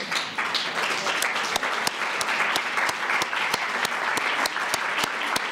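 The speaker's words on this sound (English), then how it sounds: "Big round of applause for you guys." Applause for the mayors at a White House summit on lead pipes, a large audience clapping steadily and evenly, with a few sharp individual claps standing out from the crowd sound.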